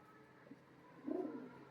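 Giribaz pigeons kept for sale give a soft coo, with a faint murmur early on and a single louder, brief cooing burst near the end over quiet background.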